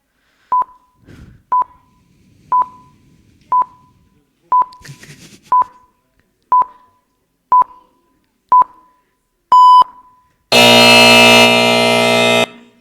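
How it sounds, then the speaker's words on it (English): A final-round debate timer gives ten short, evenly spaced electronic beeps about a second apart, loud and clear, then a long harsh buzzer blares for roughly two seconds. "So now this is going to be an example of our timer."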